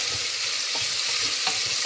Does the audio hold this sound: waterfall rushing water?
no